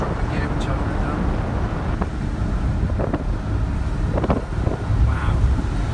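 A VW T25 van with a swapped 1900 engine climbs a hill in fourth gear at half throttle, its low engine drone heard from inside the cab under heavy wind buffeting, with someone talking over it.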